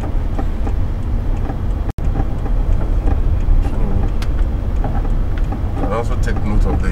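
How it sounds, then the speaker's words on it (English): Road traffic on the Lagos-Ibadan road in Nigeria, with vehicles driving past in both directions as a steady, loud engine and tyre rumble that runs throughout, broken once by a brief dropout. "Also take note of the vehicles moving in opposite direction on one side."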